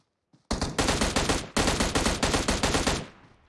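Gunfire in the mobile shooter PUBG Mobile, two rapid automatic bursts of many shots each, loud and close, separated by a brief pause with no voices.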